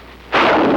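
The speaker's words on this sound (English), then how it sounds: "The bazooka." A bazooka rocket launcher fires during Korean War combat in 1951, a sudden loud blast that erupts after a quiet moment and holds as a broad, roaring rumble to the end.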